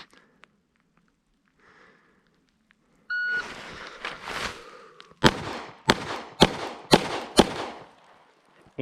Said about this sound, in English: First string of fire here is 5 rounds, 5 seconds at 5 yards.